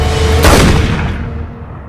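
A single loud, booming gunshot from the film Skyfall rings out amid a dense cinematic soundtrack, with a heavy low-end rumble that trails off.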